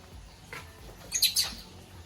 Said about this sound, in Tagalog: Ay, lovebirds.